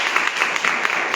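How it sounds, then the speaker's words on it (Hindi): Seminar audience clapping in a brief, fairly soft burst, a patter of hands heard at a modest distance with no talk over it. "एक बार जबरदस्त ताली हो जाए"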